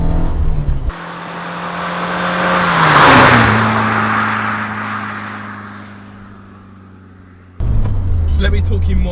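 A Peugeot 205 GTi passing by outside, the engine swelling loudly as it accelerates toward and past, then fading with a falling pitch, framed by in-car engine drone and a voice talking before and after.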